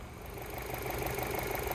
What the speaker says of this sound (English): as you can tell, the vehicle is currently running. It is a nice and smooth running engine